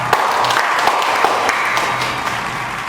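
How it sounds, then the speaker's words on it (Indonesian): Students and audience applauding at a school student-council event, a dense, loud burst of many people clapping, with a few sharper individual claps standing out and a faint voice underneath. "Tepuk tangan dong."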